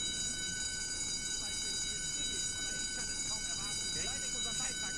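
A continuous electronic alarm tone sounds aboard a submarine in a war video game, droning steadily at even loudness under a busy rumble, with voices talking over it.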